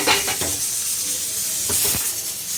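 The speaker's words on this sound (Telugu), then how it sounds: "ఇదండి ఎసరు మరిగింది," Water boiling hard in a pot on the stove, seasoned with a pinch of turmeric before rice goes in for dum biryani; a steady close bubbling hiss with a few louder bursts of rolling bubbles.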